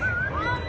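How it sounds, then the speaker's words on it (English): A dog whimpers softly in a thin, wavering high whine, short and close, over low background noise from an outdoor nighttime setting. "Do you have a dog or something?"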